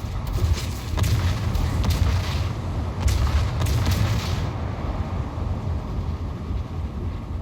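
Continuous heavy rumble of distant naval gunfire and explosions, dense low booms with occasional sharper blasts, no voices.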